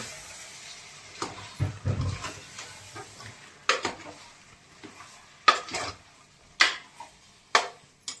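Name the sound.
mixing chicken pieces with spices in a pan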